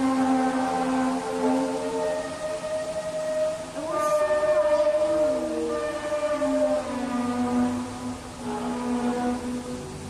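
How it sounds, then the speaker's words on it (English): Eerie trumpet-like tones recorded in Terrace, British Columbia, Canada: sustained, wavering horn-like blasts that bend up and down in pitch, layered and droning steadily at moderate volume for the whole stretch. "One of the more popular trumpet sounds videos is from Terrace,"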